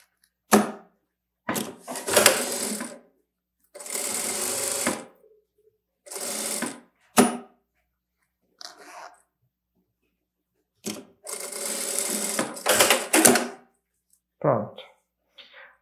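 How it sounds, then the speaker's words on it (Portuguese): A sewing machine runs a safety seam on a fabric bag that converts into a pouch, several separate bursts of fast close stitching with quiet pauses between them. "Vou passar uma costurinha de segurança."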